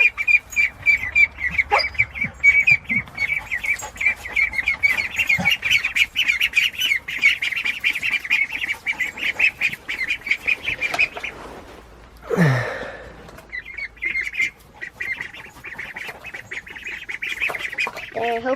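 Young ducks being raised in a pen quack and squawk continuously and close by, a dense stream of rapid nasal calls with one louder, lower squawk partway through.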